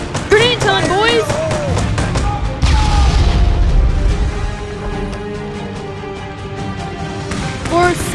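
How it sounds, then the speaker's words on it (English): A grenade goes off in a video game, a heavy low boom swelling partway through amid other game noise, with people talking over it. "Grenade time, boys!"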